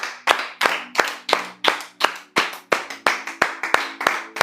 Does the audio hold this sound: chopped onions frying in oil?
no